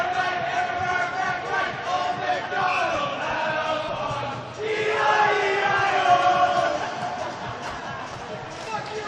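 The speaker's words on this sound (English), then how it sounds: "Jovial crowd here in Edmonton as Barber takes a shot" A crowd at a men's ball hockey gold medal game in an Edmonton arena, a steady loud roar of cheering and shouting that swells midway, with a commentator talking over it.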